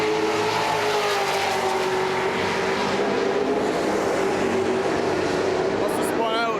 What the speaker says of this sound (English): Almost the entire field races by.